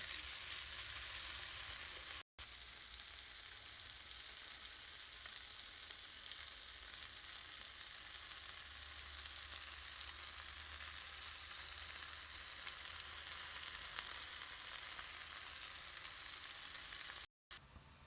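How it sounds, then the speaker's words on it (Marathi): A continuous, even sizzle of a thick masala paste frying in a pan for butter palak paneer gravy, a steady crackling hiss with no pauses and no voices. "बघू शकता आपला हा छान मस्त मसाला भाजत आहे"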